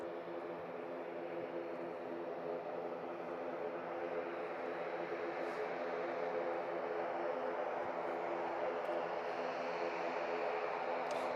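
A continuous engine roar from an aircraft on approach to land on runway 05 left at Manchester Airport, steady and fairly loud, with no voices.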